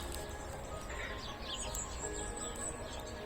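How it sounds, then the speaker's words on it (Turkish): Faint birds chirp in the distance over a steady outdoor background hum, with a few brief high tweets. "Kuş sesi."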